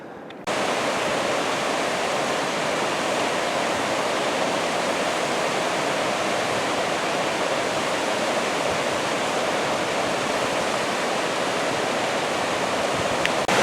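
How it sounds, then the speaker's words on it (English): Talapus Creek, a mountain stream near its confluence, rushes steadily with a loud, broad, unbroken roar of flowing water that starts abruptly and continues throughout. "We could hear Talapus Creek roaring down below us, so it should be some good water flow up there."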